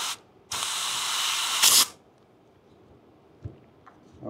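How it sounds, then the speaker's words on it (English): An air compressor fed through a blow tip pushes 100 PSI air into a urethane wheel mold. One loud, close hiss lasts about a second and a half and ends with a brief sharper burst, followed by quiet and a couple of faint clicks. "we charged up the air compressor"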